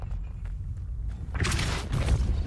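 A Depulso spell cast in the Hogwarts Legacy video game, a short low thump followed by a bright whooshing burst of magic over a rumbling game background.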